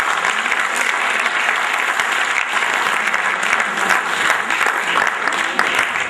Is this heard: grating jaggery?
no